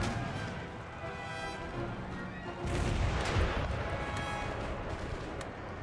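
Artillery fire in Empire: Total War, a steady barrage of dense booming cannon and gunfire that swells louder around the middle and holds as continuous battle noise.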